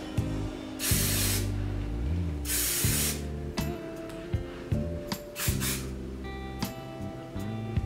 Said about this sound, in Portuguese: Então eu vou jogar spray, ó. No meio dos cachos.